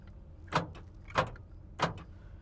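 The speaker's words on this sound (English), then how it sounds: "Let's start with the power door locks." The power door locks of a 1986 GMC Sierra 1500 pickup make three sharp mechanical thunks, evenly spaced and close by in a quiet cab.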